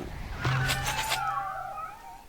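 A kitten summon in a PvP video game gives a short meowing cry over a low tone and layered game sound effects, fairly loud and close, with no talking.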